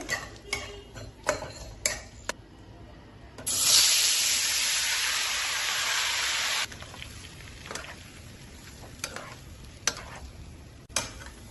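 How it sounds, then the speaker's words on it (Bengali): Spices and two dried red chillies fry in hot oil for a Bengali tomato chutney, with a loud steady sizzle bursting up midway between sharp clicks of a spoon stirring against the pan. "এরপর আমি মশলাগুলোকে ভালো করে একটু ভেজে নেব।"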